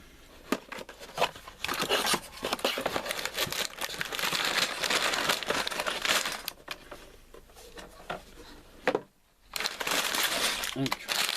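Tape being torn and pulled off a LEGO set's packaging in close, crackling bursts, with crinkling and a brief pause near the end.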